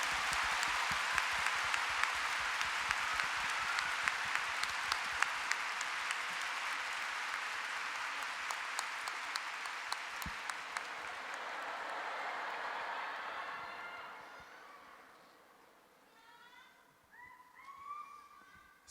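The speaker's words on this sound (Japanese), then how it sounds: "3人そして7人に大きな拍手をお願いします。" Audience applause at a girls' group audition show, a large crowd clapping steadily for seven new members, loud and continuous before fading out near the end as a few voices emerge.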